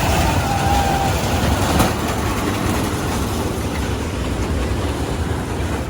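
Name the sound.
toy train running on its track in a park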